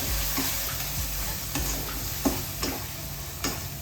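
Eggplant curry with masala paste being stirred in a pan: a steady low sizzle with soft scraping strokes of the spoon recurring about once a second, close and alone without talk.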